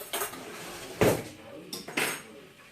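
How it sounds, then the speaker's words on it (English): A spoon scrapes and clinks against a dish while a pineapple casserole mixture of flour is stirred, giving three or four distinct close knocks over a quiet background. "I'm going to give it a stir because I think the flour has all settled."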